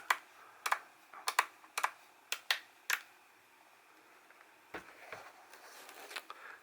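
A series of sharp plastic switch clicks from a Taranis radio transmitter, irregular and close, about a dozen quick snaps, with fainter softer clicks trailing at the end.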